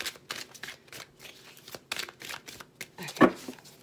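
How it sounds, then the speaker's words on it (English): A deck of tarot cards being shuffled during a card reading, with repeated short riffling bursts and papery snaps in a quick, uneven rhythm, close and moderately loud, ending in one sharper slap. "This deck shuffles."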